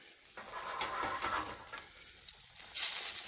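A Japanese omelette fries slowly over a low flame on a bush camping stove, a close sizzle with scraping and stirring strokes that swell and fade, ending in a brighter burst of hiss.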